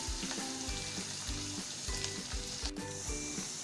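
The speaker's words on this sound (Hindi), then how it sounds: "इन तमाम चीज़ों को हम 1 मिनट तक अच्छे से फ्राई करेंगे।" Curry leaves, black pepper and chopped garlic fry in hot oil in a pan, giving a loud continuous sizzle broken by rhythmic stirring scrapes, with no voices.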